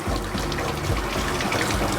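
Water from a shower head rinses a dog's face during a bath, a steady close hiss and splatter of spray running for the whole moment with no talk.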